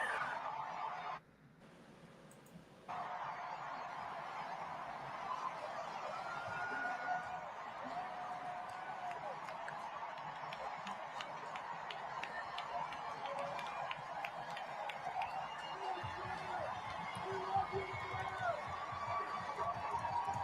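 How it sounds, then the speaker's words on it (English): A large convention crowd at Temple University's arena in Philadelphia cheers and roars continuously, a dense, loud wash of voices that briefly drops out near the start and then swells again, with a voice speaking over it. "the crowd is going crazy there in the Leah Course Center at Temple University in Philadelphia"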